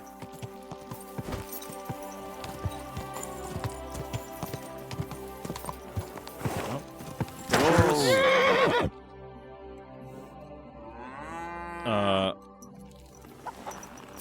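A horse in the medieval role-playing game Kingdom Come: Deliverance 2: steady clip-clopping hooves, then two loud, drawn-out neighs, one near the middle and one toward the end.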